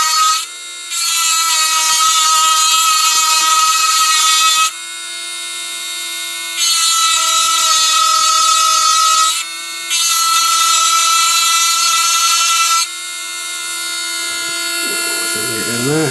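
A cheap Chinese mini grinder/engraver whines at a steady high pitch, running in several long bursts with short dips and pauses between them, close and loud, with faint speech in the gaps.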